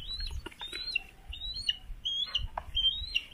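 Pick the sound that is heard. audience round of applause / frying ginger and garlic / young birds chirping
young birds chirping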